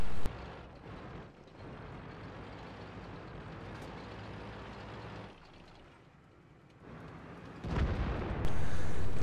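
A tank's main gun booms in a Stalingrad battle within a tank video game, a heavy rumbling roar of engine and distant blasts with a sharp loud report near the end.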